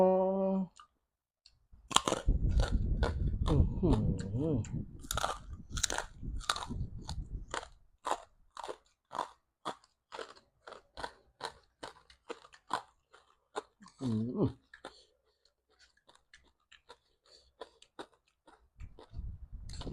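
Crispy pork rinds bitten and chewed up close: a dense burst of loud, crackling crunches for several seconds, then sparser, quieter chewing clicks trailing off.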